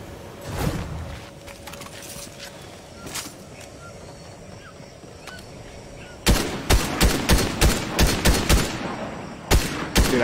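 Gunfire in Fortnite during an FNCS competitive match: a couple of isolated shots early, then a rapid burst of sharp repeated shots in the second half and two more at the end, loud and close.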